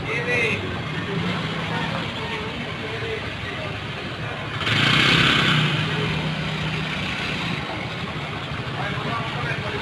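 Bus engine idling and rumbling as the vehicle maneuvers out of a narrow garage, with a burst of hissing air brakes midway and people calling out directions over the drone throughout.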